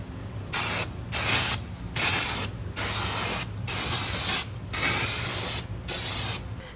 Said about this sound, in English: when you spray this with brake clean, which is like the usual recommendation for most rotors, this thing gets absolutely toasted